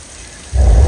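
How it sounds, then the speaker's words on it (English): Simulated rain effect pouring suddenly onto one half of a Universal Studios Hollywood tour tram, a loud close burst of rushing water starting after a quiet moment. "It's only raining on half the tram up here."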